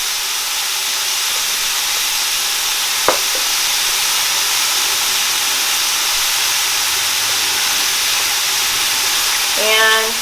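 Garlic fries in a hot pan for a Caribbean lobster and crab curry, producing a steady, close sizzle with a brief clink partway through and a faint stir near the end.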